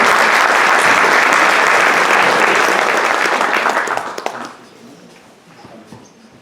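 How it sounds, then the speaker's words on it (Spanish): An audience at a medical residents' ethics talk claps loudly and continuously to welcome a speaker, a dense sustained roar of applause that fades out over the last two seconds. "Recibamos al doctor Félix Octavio Martínez Alcalá con un fuerte aplauso"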